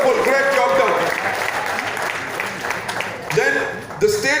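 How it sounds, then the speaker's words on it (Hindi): Audience applause for people from West Bengal at a talk, a dense continuous clapping that fades slightly, with voices calling out over it near the end. "मैं कहता हूँ जोरदार तालियां West Bengal के लोगों के लिए."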